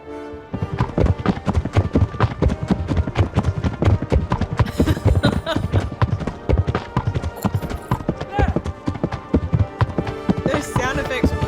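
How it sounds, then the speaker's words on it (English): Horse hoofbeats in the video game Kingdom Come: Deliverance, a rapid steady clip-clop of hooves close by running for seconds, with a voice speaking over it and faint jingles. "Those sound effects from the horse."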